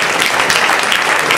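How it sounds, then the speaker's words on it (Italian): An audience applauds the band musicians at a 2017 band showcase in Villanova d'Asti, a loud, dense and continuous burst of clapping. "vi chiederei un applauso per i musicisti"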